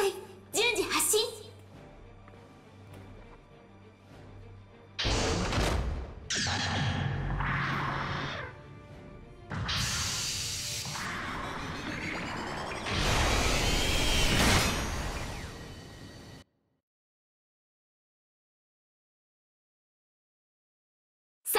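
Mobile suits launching one after another in Gundam Battle Operation 2 at an Arctic base, a run of loud mechanical whooshes, clanks and thrusts in separate bursts, ending in sudden silence.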